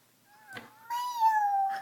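A voice imitates a cat, giving a drawn-out meow, preceded by a short vocal burst, close and clear in a quiet room.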